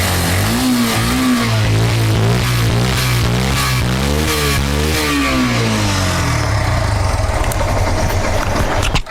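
A 2017-model Yamaha FZ motorcycle engine revs repeatedly, its pitch rising and falling in steady bursts, loud and close, before settling toward a rougher idle near the end.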